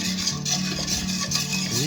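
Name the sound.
spoon stirring thickening phirni in a pot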